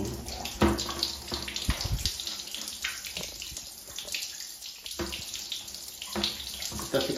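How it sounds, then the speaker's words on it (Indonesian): Water pours and splashes from a tap while the face of an ondel-ondel puppet is washed, a steady close running flow with small knocks and handling sounds throughout. "Kita cuci dulu, kasih air."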